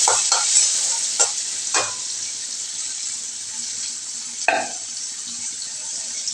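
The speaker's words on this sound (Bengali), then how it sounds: "পেঁয়াজটা একটু ভাজা ভাজা হলে আগে আলুটা দেবো" Onion frying in oil with cumin and black cumin: a bright, continuous hiss of sizzling with a few scraping stir strokes, the loudest around the middle, close and without voices.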